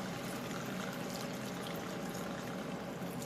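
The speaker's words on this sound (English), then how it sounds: "you want to deglaze the pan with approximately 1/4 to 1/3 of a cup of sherry or white wine" Sherry or white wine pours steadily into a hot pan of steamer clams to deglaze it, a continuous close splashing stream that runs evenly throughout with no talking.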